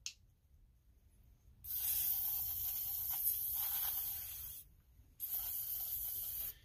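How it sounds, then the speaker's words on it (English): PB Blaster penetrating oil sprayed into a weed eater's housing with the lid lifted slightly, two bursts of close, steady hissing spray, the first about three seconds long, then a brief pause and a shorter second burst. "So now what we can do is lift the lid just enough to spray inside"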